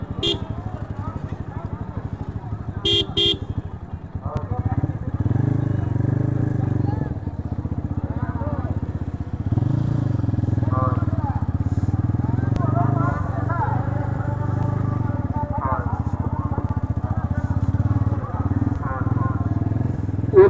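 Motorcycle engines idle and rumble steadily nearby while bikes are parked in an open field, with people talking over the continuous drone.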